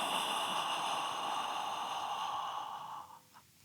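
A long, breathy inhale voiced as a soft open "aw" in Kriya breathing, steady and close, fading out near the end.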